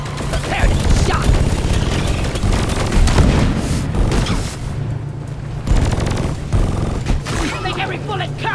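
Gunfire in the game Deep Rock Galactic gives dense, continuous bursts and booms from loud weapons, layered with a low hum and a steady din of combat noise.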